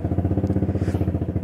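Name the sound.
motorcycle engine with a loud muffler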